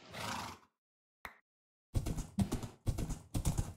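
A horse in Minecraft gives a short whinny, followed a moment later by a quick click and then a run of four evenly spaced, fairly loud bursts that sound like the game horse moving.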